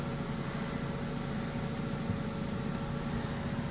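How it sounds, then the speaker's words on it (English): A 2013 Hyundai Accent SE engine idles at a kiosk emissions self-check, giving a steady low hum with a faint constant tone throughout, no talk. "start your engine, which has been running"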